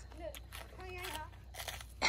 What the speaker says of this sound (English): I hope you're chewing before you swallow